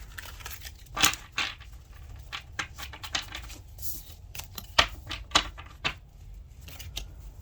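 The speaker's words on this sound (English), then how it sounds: "Let's get a few more shuffles here." Tarot cards being shuffled by hand, a run of quick papery riffles and soft slaps arriving in irregular bursts, close and fairly quiet, with no talk.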